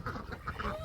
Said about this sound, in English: Sorry, we have a duck.